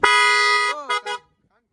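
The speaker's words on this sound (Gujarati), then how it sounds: "નવા હોરન નાખ્યા છે" A newly fitted vehicle horn blares close and loud in one sustained blast, then gives two quick short toots before falling silent.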